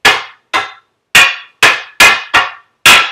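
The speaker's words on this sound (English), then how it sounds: "I'm kind of hammering down pretty hard there." A wooden stick is hammered down hard for a tipi, giving seven sharp, loud, close cracking blows at uneven intervals, each dying away quickly into silence.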